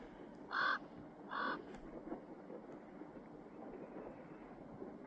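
Two loud, harsh raven croaks in quick succession, out in a snowy landscape, with quiet wind-like background afterward.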